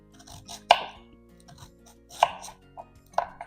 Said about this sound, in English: So you want to cut them small enough, I think, that they can cook pretty easily in the sauce as it's cooking.